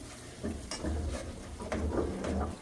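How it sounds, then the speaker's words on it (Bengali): A spoon stirs chili, coriander and cumin powder with salt in a pan for hilsa pulao, giving soft repeated scraping strokes in an uneven rhythm with faint sizzling underneath. "মশলাটা আমি নেড়ে চেড়ে মিশিয়ে নিচ্ছি"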